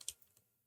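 A couple of faint, close clicks on a computer keyboard, one sharper keystroke followed by a softer tap, then quiet.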